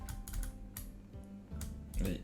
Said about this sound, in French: Je sais pas du tout si on entend beaucoup le clavier ou pas